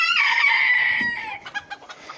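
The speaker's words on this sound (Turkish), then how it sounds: "11 tavuğumuz var. 5 horozumuz var." A rooster gives a loud, close crow that trails off into several short clucks from the hens in a backyard coop.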